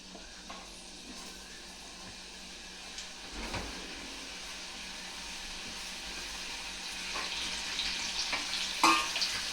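French fries go back into hot oil for a second frying, giving a soft, steady bubbling hiss that swells slightly toward the end, with a few faint clinks, heard at moderate distance and fairly quiet, without talk.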